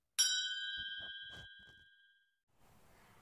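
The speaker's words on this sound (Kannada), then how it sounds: "ಬೆಲ್ ಬಟನ್ನ ಕ್ಲಿಕ್ ಮಾಡಿ." A single bright notification ding for a subscribe bell button rings out once and decays with a long tonal tail, followed by a few soft taps and then a low hiss.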